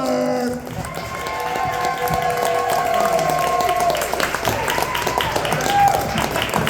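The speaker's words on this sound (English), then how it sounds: "Start applauding right now. And I want it loud, ladies and gentlemen." Audience applause and cheering for a comedian at a brewery comedy night, a steady crowd roar with clapping building over several seconds, with tonal music-like lines and voices mixed in.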